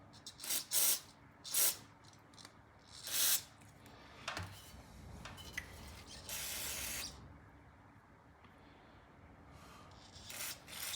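Carb cleaner spraying through a Briggs and Stratton lawnmower carburetor jet, several short sharp close hissing bursts followed by a longer spray and quieter fizzing, with faint mechanical clicks between.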